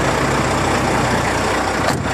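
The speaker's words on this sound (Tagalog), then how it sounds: "Kahit nakaparking, umaandar pa rin ang makina" A parked 2024 Volvo truck idles with a steady, loud engine rumble that holds even throughout, with a brief higher hiss near the end and no voices.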